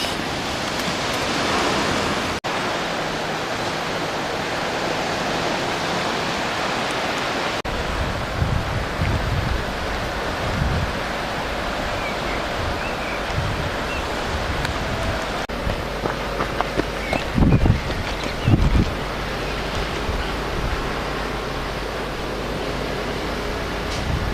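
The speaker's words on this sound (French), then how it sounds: "il y a du vent et la mer est un peu agitée" Rough surf roars continuously at a beach in windy weather with gusty wind noise, a broad steady wash punctuated by a few louder buffets and thumps.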